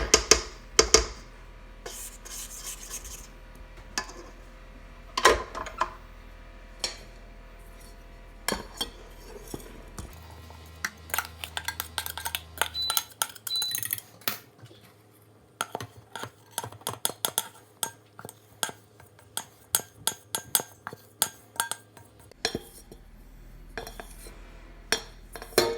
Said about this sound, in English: So now I'll just scrape down my bowl